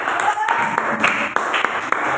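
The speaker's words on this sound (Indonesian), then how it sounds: "Tepuk tangan buat teman-teman kita ini ya." A classroom of students claps for their classmates' groups, a short burst of scattered, uneven hand claps under some talking.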